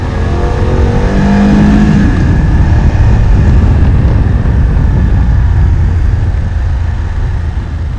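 A 2018 BMW F750GS motorcycle engine revs steadily and climbs in pitch, roaring continuously and up close.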